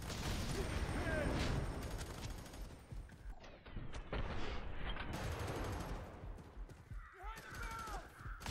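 Dense gunfire and explosions in the FEAR 3 video game during a firefight in a slum area, loud and continuous with bursts of shots, debris and shouted voices mixed in.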